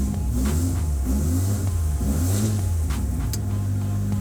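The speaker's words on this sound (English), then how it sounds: "At least the turbo sounds better again." A turbocharged drift car engine revving steadily at close range, a loud continuous rumble with rising and falling pitch and faint turbo whistle.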